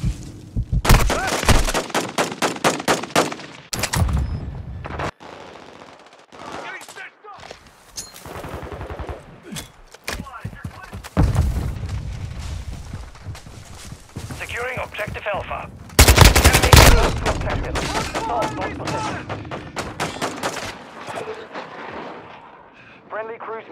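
Enemy gunfire in Call of Duty Modern Warfare II: loud, close bursts of rapid machine-gun fire and heavy booming shots, broken by short gaps, with voices heard through the battle.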